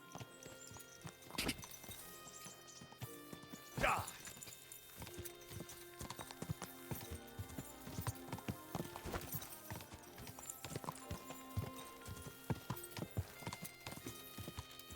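A horse's hoofbeats clip-clop steadily at a walking pace, with an occasional snort and a brief whinny, over a quiet soundscape in the video game Kingdom Come: Deliverance II.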